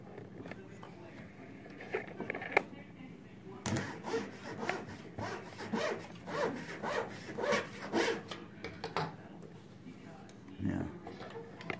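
Wood trim for a dollhouse window is sawn in a miter box with a small hand saw, giving steady back-and-forth rasping strokes in a regular rhythm, close and fairly quiet, with a few light taps between.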